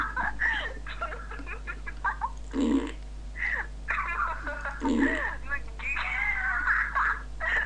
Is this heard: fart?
yes